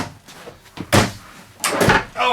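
A low drawer in a 2018 Newmar Bay Star Sport 2903 RV slides and knocks open in a few close, sharp thuds and rattles, with a short scrape between them.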